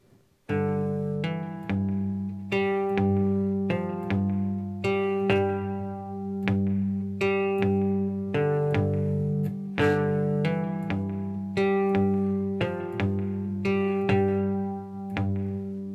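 A cigar box guitar plays the closing four bars of a blues pattern, with clear plucked and strummed notes in a steady rhythm, close and alone with no talking.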